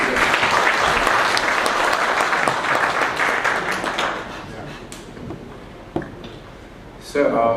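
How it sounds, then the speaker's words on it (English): An audience at a Battle of Kohima conversation event gives a dense round of applause that runs loud for about four seconds, then thins into a few scattered claps and taps before a final brief burst. "Round of applause for them, please."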